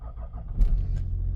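A Range Rover engine cranks briefly and catches, settling into a low, steady idle rumble close by, all within a second or so.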